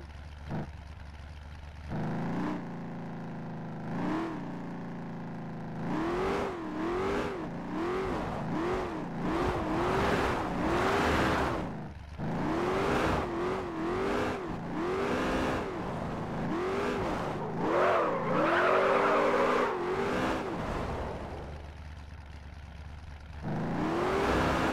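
A video game car's engine revs up repeatedly while it is driven across different physics surface materials, the pitch climbing and dropping in rapid sweeps with a steady whir underneath.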